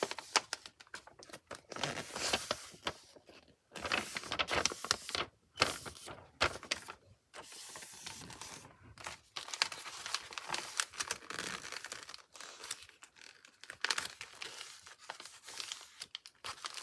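Sheet of paper being folded into strips, with a close, continuous run of crinkling, creasing and rustling in irregular bursts and brief pauses, no speech.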